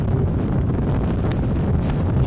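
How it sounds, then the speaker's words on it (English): Strong, gusty wind buffets the microphone at an outdoor golf range with 15 to 20 mph winds gusting toward 30 mph, a steady loud low roar with a couple of brief harder gusts and no talk. "it's probably 60 degrees, 15 to 20 mile per hour winds. When we get gusts, it could get up to 30 miles per hour."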